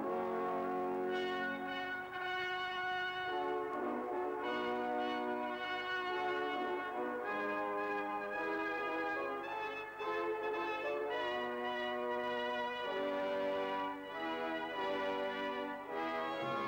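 Church bells at Westminster ring in a full, continuous peal with overlapping strikes on a coronation day, loud and steady throughout.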